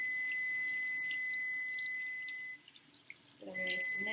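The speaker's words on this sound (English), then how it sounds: "I hear you, timer." A kitchen timer gives a steady high-pitched electronic tone for about two and a half seconds, then falls silent while a brief murmur of speech comes in, and then sounds again near the end.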